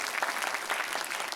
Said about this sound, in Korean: 우리 MC 단에게 다시 한번 사랑과 축복의 박수 좀 드려주시겠어요?